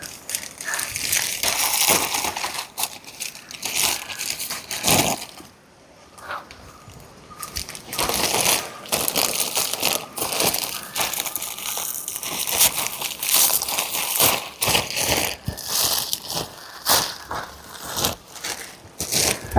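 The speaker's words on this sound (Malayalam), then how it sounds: "ആദ്യം തന്നെ നമ്മുടെ കയ്പക്കായ പൊട്ടിക്കാം കേട്ടോ" Bitter gourds are picked off the plant with dense crackling and crunching of leaves and vines, loud and close, nearly continuous with a brief quieter pause partway through.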